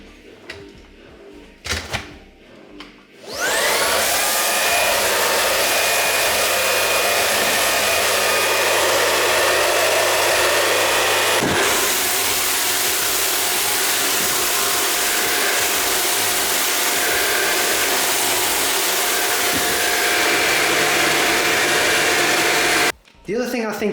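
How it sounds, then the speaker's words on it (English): A Shark Wand handheld vacuum cleaner runs over a cat mat with a steady, loud motor whine that starts after a few seconds, holds for about twenty seconds, then cuts off briefly near the end. "when you run this over this cat mat, it doesn't pick up as much debris"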